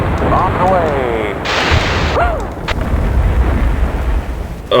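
Bombs explode in the flight-combat video game Fighters Anthology, with heavy booming blasts and a burst of crackling detonation amid engine drone, while someone talks over the action.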